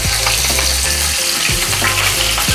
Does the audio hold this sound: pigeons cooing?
no